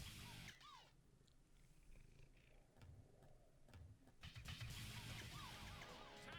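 A cat purrs steadily and close up, a soft rhythmic rumble continuing throughout with no talking.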